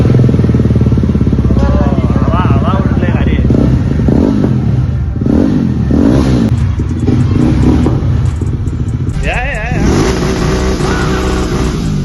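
A Yezdi Roadster motorcycle with its DB killers removed revs repeatedly, the loud, close exhaust note rising and falling in bursts, with voices faintly present at times.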